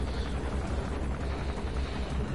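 Helicopter rotors thump and whir in Metal Gear Solid V, a steady low churning drone holding at moderate loudness for a couple of seconds with nothing else over it.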